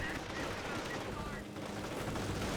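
Dense battle noise in Company of Heroes, with MG42 machine-gun fire blended into a constant wall of gunfire and explosions, loud and continuous throughout.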